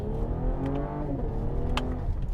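A 2021 Cadillac CT5 Premium Luxury with a 10-speed automatic is pushed hard in sport mode. Its engine revs climb briefly and closely, then settle, and no one speaks.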